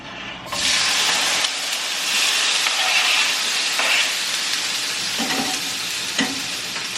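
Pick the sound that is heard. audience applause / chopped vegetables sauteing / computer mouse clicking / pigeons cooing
chopped vegetables sauteing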